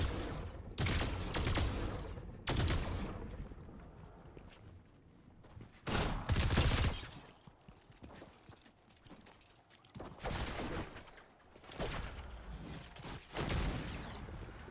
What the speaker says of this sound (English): We got shots all around us.